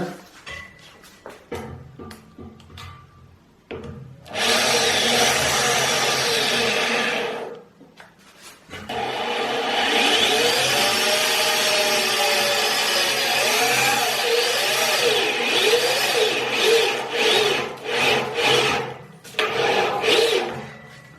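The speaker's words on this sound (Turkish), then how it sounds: "delme işlemini deliklerin tam orta kısmından yapıyoruz" A power drill whines loudly in two long bursts, with changing pitch as it bores holes into a wall for a TV mount, separated by short pauses and clicks.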